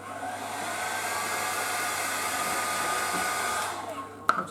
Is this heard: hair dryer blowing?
yes